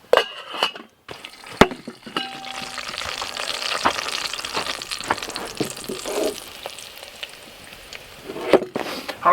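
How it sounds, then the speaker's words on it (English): Bacon and butter fry in a pan over a bed of coals at a snowy winter campsite, a steady close sizzle and crackle with scattered utensil clicks and occasional pops throughout. "we'll just melt that butter and singe that bacon a little bit"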